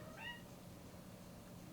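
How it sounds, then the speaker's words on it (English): A cat cries at the door with one short, clear meow near the start, followed by quiet room hum. "my cat is crying"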